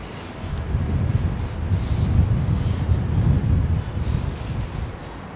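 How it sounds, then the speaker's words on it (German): Strong wind gusts at a trout fishing lake, buffeting the microphone with a loud, low rumbling roar that swells and eases in waves throughout, with no voices. "weil der Wind immer wieder, wie gesagt, von links, von rechts kommt"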